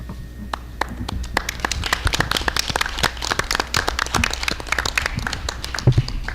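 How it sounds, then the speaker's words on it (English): Audience at a school board meeting clapping in thanks, a dense patter of many hands with sharp individual claps standing out, fairly close and steady throughout. "It's not a proud clap."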